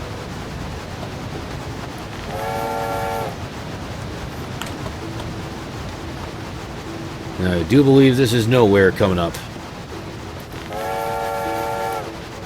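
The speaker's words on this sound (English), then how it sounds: "Oh, got a train coming. Better get out of the way." Video game train rolling along a forest route, its whistle sounding in two long chord-like blasts with a loud harsh horn burst between them, someone talking over the steady running rumble.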